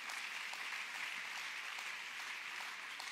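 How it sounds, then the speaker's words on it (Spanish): A church congregation claps together, a soft and fairly distant patter of many hands that holds steady the whole time without speech. "dele el aplauso al Señor"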